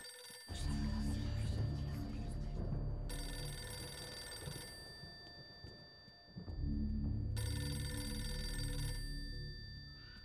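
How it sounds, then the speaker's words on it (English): A telephone rings inside the horror video game Eternal Darkness, with two clear bursts of ringing separated by a short quiet pause over low game ambience. "Phone's ringing."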